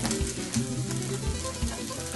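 Meat browning in a pan for a meatloaf dish, giving a steady close sizzle with occasional low thumps and scraping of stirring throughout.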